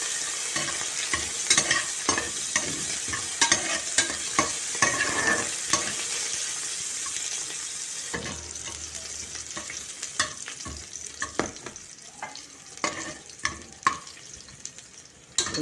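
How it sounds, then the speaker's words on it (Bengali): Minced garlic frying in oil in a pan while a ghugni is cooked, a steady close sizzle with repeated stirring scrapes and clacks throughout, louder in the first half and easing slightly later. "এরপরে দিলাম রসুন, কাটলানো রসুন, তাকে একটু ভেজে নিলাম।"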